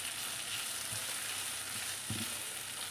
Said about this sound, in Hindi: इसको बस हमने 1 से 2 मिनट फ्राई करना है।